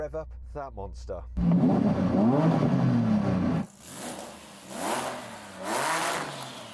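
A 3000-horsepower SUV engine roars loud and close, holds a steady growl, cuts off, then rises in three swelling revs, with a brief voice near the start.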